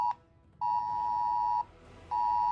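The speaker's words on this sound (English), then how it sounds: "Just had a national alert" A government national emergency alert sounds from a phone as loud, steady electronic tones in long repeated bursts with brief gaps between them, close and piercing over faint background noise.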